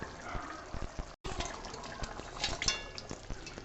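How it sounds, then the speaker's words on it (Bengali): A pot of spicy boal fish curry bubbles in its gravy, a close, steady simmering hiss broken by soft pops and small splashes, with a brief dropout partway through and no voices. "মাছগুলো একটু ফুটবে ঝোলের সাহায্যে"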